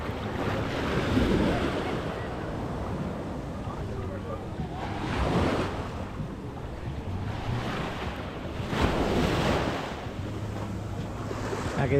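Sea waves breaking at the water's edge on Playa Mamitas beach, a continuous wash of surf with periodic swells and wind buffeting the microphone, close and fairly loud.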